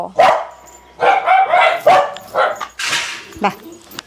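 A rescued puppy barking and yipping, loud and close, in repeated short bursts with little pause between them.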